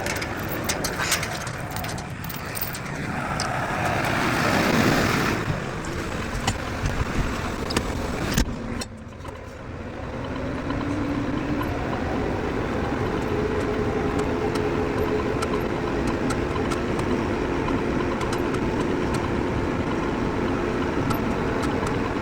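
A tractor engine running to power a hydraulic squeeze chute in a bison corral, a loud steady rumble throughout with a brief dip partway, no talking.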